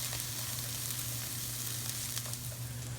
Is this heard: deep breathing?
no